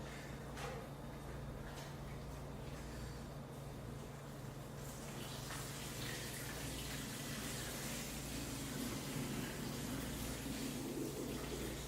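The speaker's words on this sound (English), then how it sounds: "we're going to drain the white rice off, get all the starch out there" Starchy water drains from rinsed white rice, running and gushing steadily with a soft hiss that swells slightly partway through, close by and without voices.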